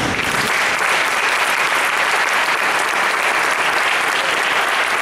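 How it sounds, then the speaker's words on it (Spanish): Audience applause after a question session at a lecture on teaching and learning methodologies, dense steady clapping from a crowd that fills the whole stretch evenly. "un fuerte aplauso."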